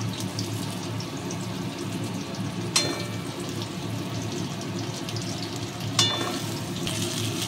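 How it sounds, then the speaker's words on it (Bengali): Okra frying lightly in a little oil in a wok, a steady low sizzle running throughout with two brief sharp clinks of utensil against the pan. "এবার আমি ঢ্যাঁড়সগুলো দিয়ে নিচ্ছি। খুব বেশি ভাজবো না, হালকা হালকা ভেজে নেবো।"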